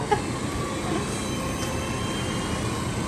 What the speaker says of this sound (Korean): 기차가 돌아다니네